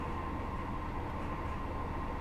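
A Class 158 diesel unit from Train Simulator, running on the Wessex Main Line, hums and rumbles in a steady, even drone throughout, with no one talking.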